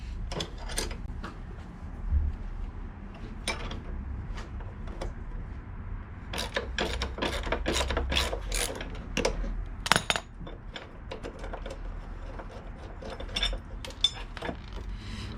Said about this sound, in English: So first off we're going to be loosening that bolt.